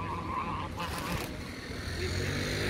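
Loud, continuous honking quacks from a crowded flock of ducks, close by and overlapping with no pauses.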